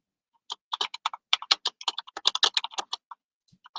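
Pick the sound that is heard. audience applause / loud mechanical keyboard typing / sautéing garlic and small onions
loud mechanical keyboard typing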